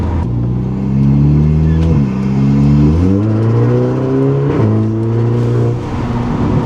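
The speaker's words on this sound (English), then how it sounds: "the turbo is fucking fluttering as shit sometimes" Audi TT with a RamAir induction intake revs hard through several gears, the engine note climbing and dropping at each shift, with turbo flutter on lift-off; loud and close throughout.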